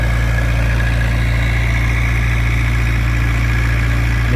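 Steady engine drone of a water pump running beside a pond being drained and dug out, a constant low hum with a mid-pitched whine, loud and unbroken with no voices.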